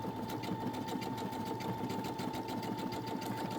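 A domestic sewing machine runs a crocodile decorative stitch pattern on its own. The close, continuous mechanical whir carries a rapid, even needle chatter and a steady motor hum throughout, with no voices.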